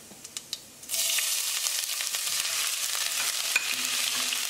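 Ginger and garlic hit hot oil with cumin in a pan, bursting into a loud, steady sizzle after a few soft clicks, with scattered crackles and spoon taps continuing.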